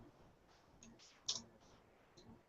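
Computer mouse clicks sound faintly in a quiet room, a few sharp light ticks scattered over about two seconds, one standing out louder than the rest.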